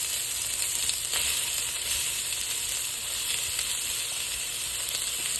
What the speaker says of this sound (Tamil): அடுத்து பூண்டு, பூண்டை வதக்கிறது.